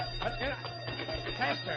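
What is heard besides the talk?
alarm bell ringing in old time radio drama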